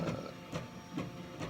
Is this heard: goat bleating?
no